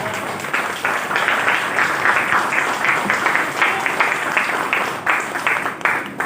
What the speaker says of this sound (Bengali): নিজেদের জন্য একবার জোরদার হাততালি হয়ে যাক।